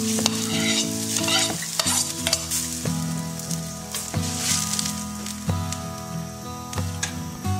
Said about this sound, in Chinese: 锅中烧开水，放入韭菜，烫一分钟。